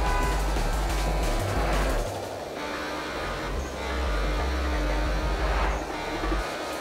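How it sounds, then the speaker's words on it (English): Car engine in a racing video game: a continuous loud engine drone with fluctuating pitch as it revs and eases off, steady hum underneath, close and without speech. "I just love how the car sounds."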